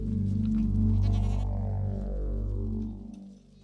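Goats of a village herd bleat in a loud, continuous wavering chorus, with several overlapping calls holding for a few seconds before fading out.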